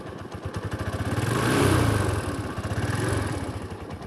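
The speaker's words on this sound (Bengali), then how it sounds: "গাড়ি স্টার্ট দেওয়ার পর আপনারা সবাই আপনারা গাড়িটাই সাউন্ড শুনবেন" A second-hand motorcycle engine, just started, runs with a steady rapid thumping idle that swells briefly as if revved, then settles, close and alone without speech.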